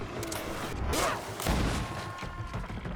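Gunfire in the video game GreedFall, heard as two loud, close bursts about half a second apart over a low rumbling game soundscape.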